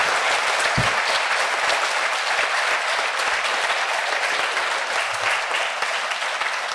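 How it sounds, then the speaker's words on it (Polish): Steady, dense applause from a crowd at the Jarocin music festival during the Rytmy Młodych contest, holding loud and even throughout with no voices over it. "Wielkie brawa"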